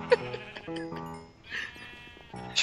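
Sheep bleating in a Minecraft skyblock game, several short nasal bleats in quick succession, fairly close and clear, with game sounds in between.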